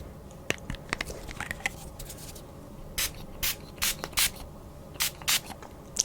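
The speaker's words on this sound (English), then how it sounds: "And don't be shy with the spray." Several short bursts of a Tower 28 Rescue facial setting spray hiss in quick succession, close and fairly loud, over faint background noise.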